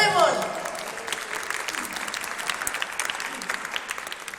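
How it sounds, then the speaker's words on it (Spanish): An audience at a live science show breaks into loud, dense applause that fills the room and stays steady throughout, with a brief voice at the very start. "voy a pedir un fuerte aplauso para nuestra primera serie"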